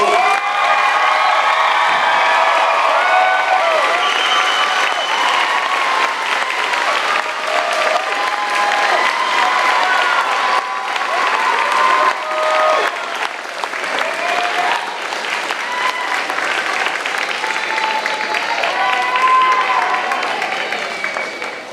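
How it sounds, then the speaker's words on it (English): Loud, sustained applause with cheering and whoops fills a high school honors ceremony for the Class of 2023, a dense crowd roar with shouted voices riding over the clapping for about twenty seconds. "All right, now it's time to get loud. Cheers, round of applause, let's go."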